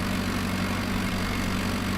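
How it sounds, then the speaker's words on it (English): A tractor engine in Farming Simulator 15 runs at high revs, holding an even, loud, droning hum with no rise or fall over the short stretch and no speech. "Turn it on, and you'll see the tractor just revs all the heck"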